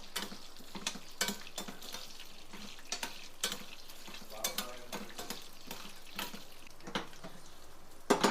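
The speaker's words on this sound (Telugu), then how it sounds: "పల్లీలు పచ్చిమిర్చి ఇవన్నీ మంచిగా వేగాలి" Peanuts and green chillies fry in a pan with a quiet, steady sizzle, and irregular clicks and scrapes of a spoon stirring them stand out in the foreground.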